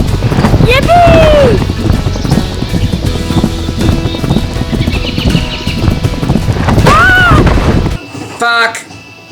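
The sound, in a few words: horse galloping in Hannah Montana The Movie video game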